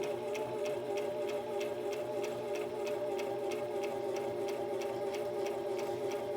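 Sewing machine stitching slowly and steadily along a fabric face mask seam in reverse, a steady low hum with faint regular ticking clicks running throughout at close range.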